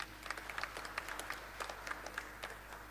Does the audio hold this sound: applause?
yes